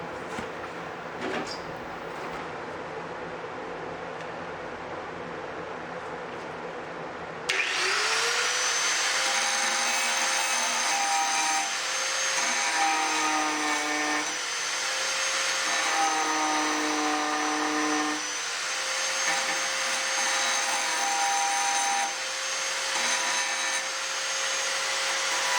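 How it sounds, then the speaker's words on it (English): Angle grinder fitted with a grinding disc wearing down old welds on a rusty car body near the wheel arch and jack point. A quiet stretch gives way to a loud, steady, high-pitched grind that holds for about eighteen seconds with slight shifts in pitch. "change over to a grinding disc to grind down some of the old welds which attach the wheel arch to the jack point"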